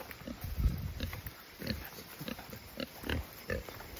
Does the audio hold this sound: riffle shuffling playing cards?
no